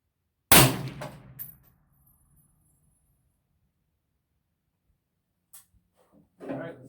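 A single loud .308 Winchester shot from an AR-10 rifle hits an alternator, giving a sharp crack with a ringing metallic decay. A fainter clank follows later, and a brief voice is heard near the end.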